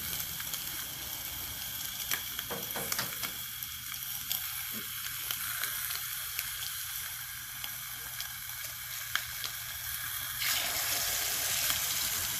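Eggs hit a hot Lodge cast iron pan on a Camp Chef Explorer stove and sizzle loudly, a steady hissing fry with a few crackles and pops that swells slightly toward the end.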